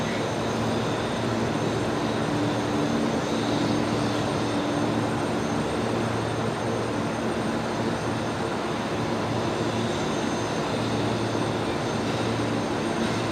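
A Jetstar airliner on flight 634 from Avalon, Melbourne, arrives on runway 01 right at Brisbane Airport, producing a steady, loud, broad engine roar that holds throughout without a break.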